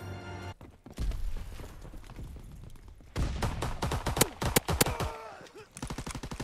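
Dual-wielded 9mm SAP pistols firing in Call of Duty WW2, loud rapid clusters of close shots with a short gap, then dense fast volleys, under occasional talk.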